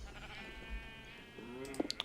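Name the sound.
sheep bleating in Minecraft video game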